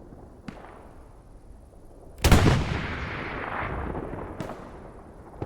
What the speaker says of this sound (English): Bombing run coming in though for SAP Commander Polycarpo.